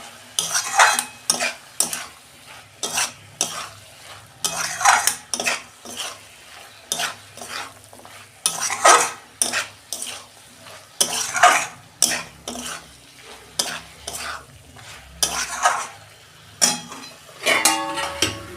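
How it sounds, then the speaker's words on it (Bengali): Potato and prawns are stir-fried together in a pan, with a spatula scraping and clinking against the metal in quick repeated strokes over a steady sizzle, close and fairly loud, with no speech. "এই যে আলু আর চিংড়ি মাছটা আমি একসঙ্গে দিয়ে দিচ্ছি। দিয়ে আমি 5 মিনিট কষাবো।"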